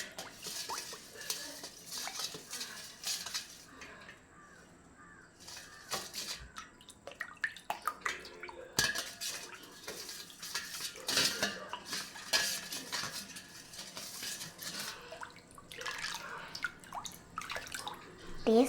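A spoon clinks and scrapes around a container while sugar and salt are stirred into homemade lemon juice, irregular close metallic taps and swishes with quiet voices in the background.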